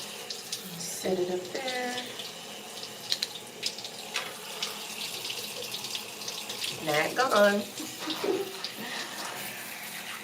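A tap runs continuously while shampoo is rinsed from natural hair, a steady close splash under intermittent talking.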